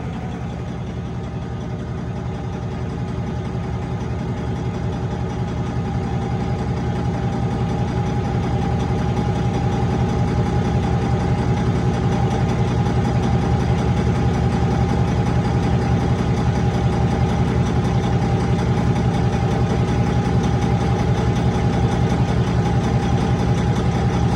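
A Cummins ISX15 diesel truck engine with a fuel pressure fault idles steadily and loudly, its low, even rumble holding constant throughout with no voices.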